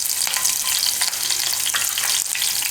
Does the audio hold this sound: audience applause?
no